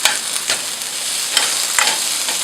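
Onions fry in a pan with beef juices for a Mexican braised beef, giving a steady close sizzle with a few brief stirring scrapes and no talk.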